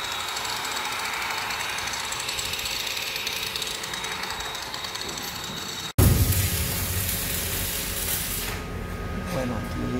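An abrasive polishing tool grinds across the steel of a hopper under fabrication in a metal workshop, a loud steady whine that breaks off abruptly midway and resumes at once just as harsh.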